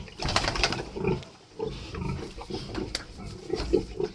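A sow that recently farrowed grunting repeatedly at close range, short low snorts and grunts in uneven bursts with rustling in between.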